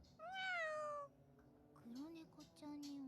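A human voice imitates a cat with one long, drawn-out, high meow near the start. Talking follows right after.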